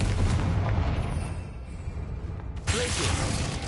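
Confringo explosion spell cast in Hogwarts Legacy, a sudden bright burst partway through over a rumbling game background, fairly loud and close.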